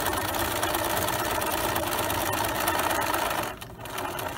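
A sewing machine stitching a pillow corner, running as a continuous loud mechanical hum and rapid needle clatter that pauses briefly near the end, alone without talk.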